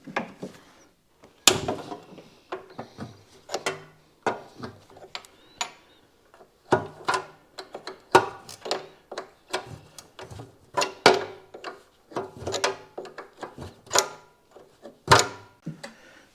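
A wrench works loose a 9/16 bolt at the rear of a Cub Cadet 1872 riding mower: irregular, sharp metallic clicks and knocks come in uneven bursts, close by, with no talk.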